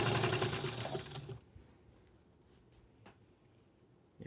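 A sewing machine stitching tree skirt fabric, selvage edge to selvage edge, running in a loud close whir for about a second before stopping, then quiet handling clicks of fabric and clips.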